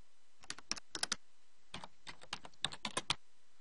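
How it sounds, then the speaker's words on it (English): Soft, close keystrokes click on a computer keyboard in quick bursts of a few taps, with brief pauses between the groups. "Type in the name and hit Save."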